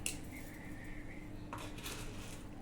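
A small pan is handled while oil is set up for a tempering, with a few light metallic clinks and scrapes close by over a quiet kitchen background.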